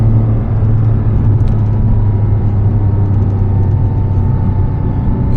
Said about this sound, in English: this car makes it fun just to cruise through these roads at any speed